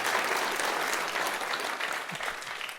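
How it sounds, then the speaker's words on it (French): An audience claps together in a steady, dense round of applause that holds at an even level from start to finish, with no voices over it. "On peut applaudir."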